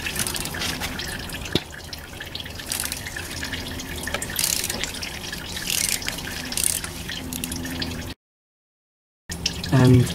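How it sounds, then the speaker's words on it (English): Engine oil dripping from the oil filter of a 2006 Toyota Corolla 1.6 into a drain pan, a steady stream of small drips and trickles close by, continuing alone for several seconds before a brief gap. "because some oil will drip from there."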